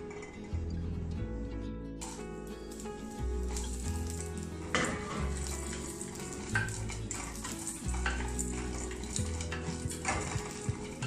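Gram frying in hot oil in a pan on a stove while cooking mutton salna, a steady loud sizzle throughout with occasional clinks and stirring scrapes of utensils against the pan.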